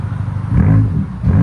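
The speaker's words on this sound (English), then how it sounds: "BMW XM. That's idle, give it gas." A 2023 BMW XM's 4.4L twin-turbo V8 with an X-pipe and Borla ATAK exhaust revs up from a deep, loud idle rumble, swelling into a strong blip midway and climbing again at the end.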